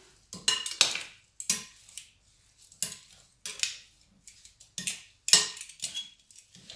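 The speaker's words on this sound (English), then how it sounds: "And just mix them properly." Seasoned pork stew ingredients are mixed in a bowl with a utensil, producing irregular clinks and scrapes in short, close bursts separated by brief quiet gaps.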